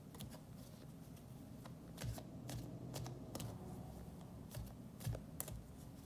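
Tarot cards being shuffled by hand, a soft steady riffling rustle with sharper slaps and snaps at intervals, close and fairly quiet, with no talking.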